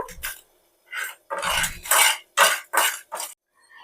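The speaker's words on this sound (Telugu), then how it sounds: "ఇక్కడ మనకి ఈ పప్పులు అండ్ ఎండుమిర్చి ఫ్రై అవుతున్నాయి" Lentils and dried red chillies are fried in a pan for a chutney: a series of close, bright clattering bursts, like a utensil scraping and tossing them against the metal, separated by short gaps, with no talking.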